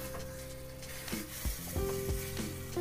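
Mutton frying with spices in a pan hisses in a steady, close sizzle, broken by several soft knocks and scrapes as it is stirred.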